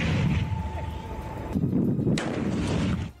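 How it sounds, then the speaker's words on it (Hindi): Soldiers at a training camp fire a shoulder-launched missile, a loud blast and rushing roar over steady wind noise, with a second sharp burst partway through before the sound cuts off. "उन्होंने मिसाइल दाग दी।"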